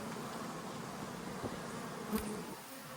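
Honeybees flying around beehives outdoors, a continuous soft buzzing hum from many insects, with one louder buzz briefly passing close by.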